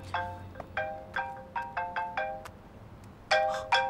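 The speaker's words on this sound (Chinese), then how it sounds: "我接个电话" A mobile phone ringtone plays close and clear as a rapid run of bright electronic melodic beeps, then pauses briefly before a louder burst.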